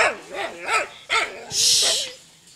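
Two six-month-old Rottweilers bark close by in quick, uneven bursts, deep woofs mixed with higher yips and a whining edge, with a hissing noise near the end.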